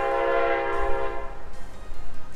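A passing train sounds its horn: a loud, sustained chord-like blast lasting about a second and a half, then fading into rumbling rail noise outdoors.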